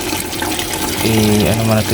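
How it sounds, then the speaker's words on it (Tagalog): Water rushes into a Panasonic 6 kg automatic washing machine as it starts filling, a steady hissing flow with a voice talking over it partway through. "Yan, nag-start na yan guys. May tubig nang dumadaan."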